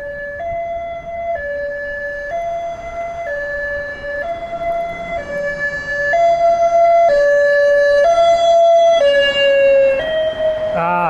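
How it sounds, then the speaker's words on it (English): A reserve ambulance siren passes on a Washington street, its two-tone wail alternating steadily and growing louder as it draws near, loud and alone with no talk. "Here comes the ambulance."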